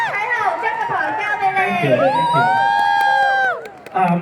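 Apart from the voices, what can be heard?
audience applause and cheering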